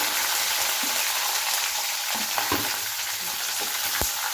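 Crushed garlic and green chilies sautéing in a pan, a loud, dense, constant sizzle with a few faint stirring knocks, close and steady, no talk.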